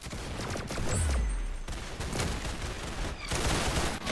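Rapid gunfire in the Roblox game Arsenal, a dense stream of shots and booms running continuously throughout at moderate level, with no talk over it.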